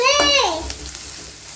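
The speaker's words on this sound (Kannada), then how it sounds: "ಇವಾಗ ಇಷ್ಟನ್ನು ಫ್ರೈ ಮಾಡ್ಕೊಳ್ಳೋಣ. ಈರುಳ್ಳಿ ಚೆನ್ನಾಗಿ ಫ್ರೈ ಆಗಬೇಕು, ಅದು ಕಲರ್ ಬಿಟ್ಕೊಳ್ಬೇಕು." Chopped onions fry in oil in a home kitchen pan, a soft continuous sizzle beneath a brief voice at the start, with faint stirring clicks.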